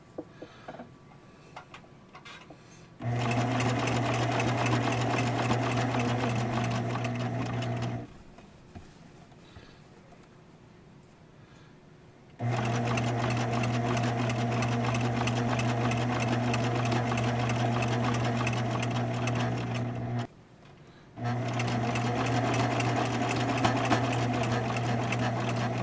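A sewing machine stitches a bag seam in three long steady runs of fast, even mechanical whirring, with short quiet pauses between them and no talking.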